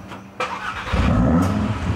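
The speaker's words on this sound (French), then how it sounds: "voilà la RS avec son moteur 5 cylindres que nous allons vous faire écouter." An Audi TT RS five-cylinder engine catches and rises to a steady, throaty idle up close, after a couple of brief knocks and a moment of quiet.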